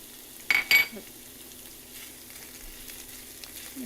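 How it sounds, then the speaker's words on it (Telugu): Onions with ginger garlic paste frying for a salmon curry give a soft, steady sizzle, broken early by two brief loud clanks of a utensil against the pan, then quiet stirring. "పచ్చివాసన లేకుండా చక్కగా మనం గోల్డెన్ కలర్ వచ్చే వరకు వేయించుకోవాలి"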